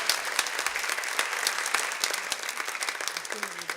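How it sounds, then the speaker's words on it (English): Pageant audience applause in an evening event hall, steady crowd clapping with sharp individual claps standing out, sustained throughout at moderate level with a faint voice near the end. "let's have another round of applause"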